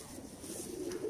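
A purple Salara Teddy pigeon pair coos in a low, continuous murmur for a brief moment, close and steady with no voices.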